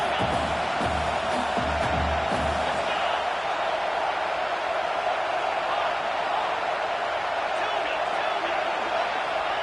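Steady roar of a stadium crowd in the College Football 26 video game, a dense continuous wash of noise running the whole time with faint talk beneath it.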